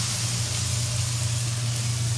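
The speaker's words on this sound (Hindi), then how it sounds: "ये तड़का भी है ना यार" Indian tadka of spices tempering in hot oil for a dal: a steady, close sizzle and hiss that continues without a break, with no talk.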